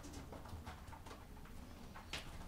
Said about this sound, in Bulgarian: Холандски гълъб е.